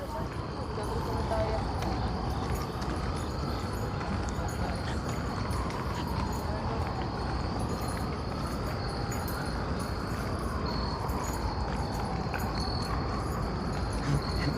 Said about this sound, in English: And we can hear the crickets.